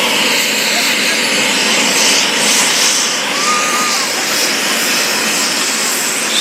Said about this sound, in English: So this is also my first time to see this kind of aircraft, this V22 Osprey.